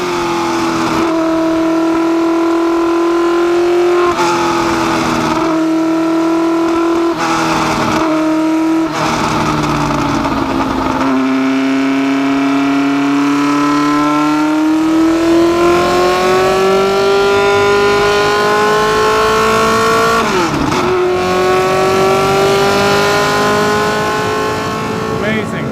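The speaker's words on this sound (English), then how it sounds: "driving around having a look at this amazing track at the historic Silverstone circuit in a car, the 4-wheel drive McLaren M9A" A 1969 four-wheel-drive McLaren M9A race car driven at Silverstone, its engine droning loud and steady from the cockpit, pitch climbing through gear changes with short dips between, while someone talks over it.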